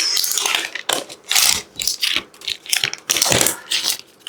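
Protective plastic film is peeled off a new Mac Mini M4 during an unboxing, giving bursts of crinkly, crackling tearing noise in quick uneven pulses, close and fairly loud.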